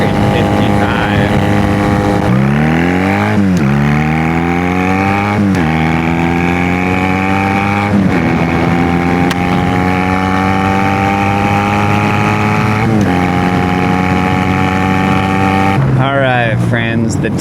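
A Honda Rebel 250 motorcycle engine winds up while riding, revving loud and close through several rising gear pulls with short dips between shifts, under steady wind rush.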